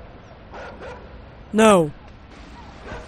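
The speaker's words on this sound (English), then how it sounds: "Did you hear that? That was a dog." A single sharp dog bark, loud and close, rings out from the video game Inside amid quiet background noise, while someone briefly speaks.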